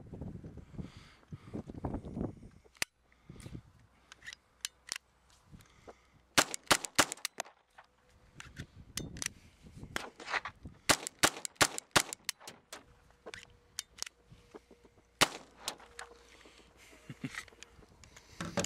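Rimfire rifle rounds fired outdoors amid light primer strikes give a scatter of sharp, irregular cracks and snaps, some clustered in quick bursts, over faint wind noise.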